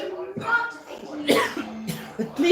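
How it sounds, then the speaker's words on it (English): An adult coughs several times in harsh, raspy bursts close to the microphone, mixed with strained vocal sounds and some speech. "please tell them I'm coughing my lungs out."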